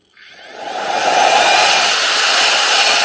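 A Nitecore BB2 electric photography dust blower fans air, ramping up over the first second into a loud, steady, close-up rushing whoosh that holds evenly to the end.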